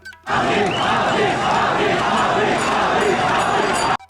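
A dense crowd of warkari pilgrims roars and chants together at the Mauli palkhi procession during the Ashadhi Wari, a loud, continuous mass of voices that holds steady throughout before cutting off abruptly.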